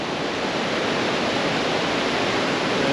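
A creek swollen with snowmelt in Oakhurst, California, rushes past in a dense, steady roar of churning water, close and continuous with no voices.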